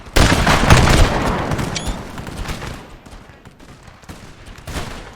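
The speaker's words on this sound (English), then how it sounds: "That's Fusilier's time to return fire." Fusiliers fire a musket volley in Napoleon: Total War at the Battle of Kulm. A loud, crackling mass of shots bursts out at once, then rolls and fades into scattered, more distant firing.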